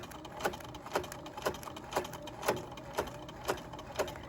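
A sewing machine stitching fabric for a body pillow, running in an even mechanical rhythm of soft thumps about twice a second over a low whir, close and fairly quiet, no voices.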